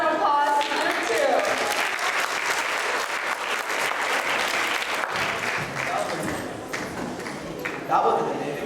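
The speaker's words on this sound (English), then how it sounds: "Let's give another round of applause to group 2." Youth camp audience applauds group 2 after their skit, sustained loud clapping and crowd noise with cheers and voices mixed in, tapering slightly before a short swell at the end.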